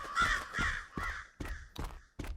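Crows caw in a series of six harsh calls, the first three long and close together, then three shorter, clipped caws, fairly near and clear with no talk.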